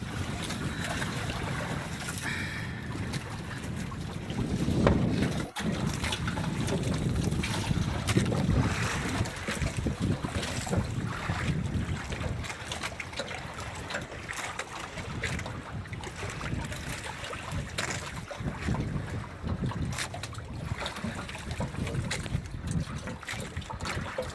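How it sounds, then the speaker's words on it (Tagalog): Gusty northeast monsoon wind buffets a fishing boat at sea, a steady rushing roar with microphone buffeting and water slapping, fairly faint and continuous with no talk. "Nakasan pa rin yung hanging amihan"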